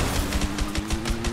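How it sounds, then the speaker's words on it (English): Rapid gunfire from a video game shootout, a steady stream of sharp, closely spaced shots over a constant electronic hum. "Shoot that motherfucker up"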